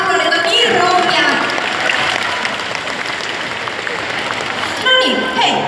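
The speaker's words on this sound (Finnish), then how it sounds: "Annetaanpa hänelle vielä aplodit, on niin rohkea." A crowd at a live on-stage Q&A claps for a brave audience member who asked a question. Sustained, fairly loud applause fills the clip, with voices talking over it at the start and again near the end.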